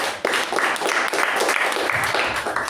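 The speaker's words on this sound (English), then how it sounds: "can we have a good round of applause to the speaker and the evaluator" Audience applause for a speaker and evaluator at a Toastmasters-style club meeting, a steady, dense patter of clapping sustained throughout, fairly close and moderately loud with no talk.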